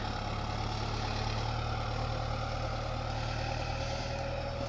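A TD110D tractor engine drones steadily while pulling a 4.2-metre-wide field leveller across farm soil, a continuous low rumble without pauses, no voices.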